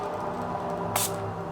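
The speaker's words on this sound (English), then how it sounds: "This is citrus spray. It's citrus sage." A single short hiss of citrus sage spray misted into the air during a space-blessing, a brief burst over steady background hum.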